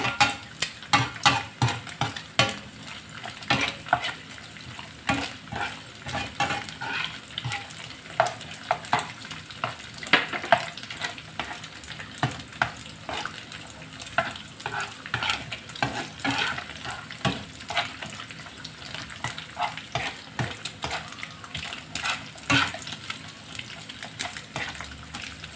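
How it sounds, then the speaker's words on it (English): Anchovies fry in a pan over low heat, giving a steady crackling sizzle with dense sharp pops and spatters throughout, close and fairly loud. "anchovies is getting cooked, it's starting to turn color. We put it on low fire so that it won't get burned."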